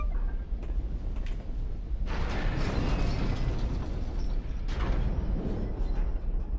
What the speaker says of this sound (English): If we rotate it, we can quench the fire that is within.